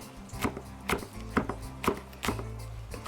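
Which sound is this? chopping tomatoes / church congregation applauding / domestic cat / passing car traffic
chopping tomatoes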